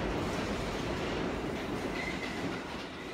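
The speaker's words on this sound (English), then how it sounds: "just missed the train" Subway train running along the track, a loud continuous rumble with rattling wheels and a faint high squeal midway, steady throughout with no talk.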